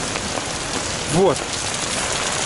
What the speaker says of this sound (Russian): Кажется, дождь на улице.